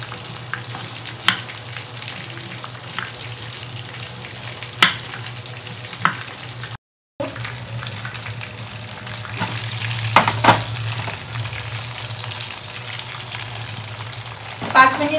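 Food for a homemade chicken burger fries in a pan with a steady, close sizzle and a low hum underneath, a brief dropout partway through, and scattered taps and clicks of utensils.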